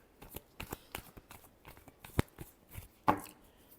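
Tarot cards being shuffled by hand, a series of soft, quick riffling and tapping bursts with a sharper snap near the end, fairly quiet and close with no talking.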